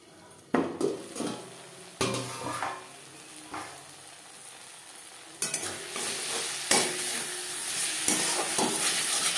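Spice paste with onion and tomato, for a Bengali puti fish curry, is stirred and fried in a pan over low to medium flame, giving repeated scraping strokes of a spatula and clinks of metal over a steady sizzle.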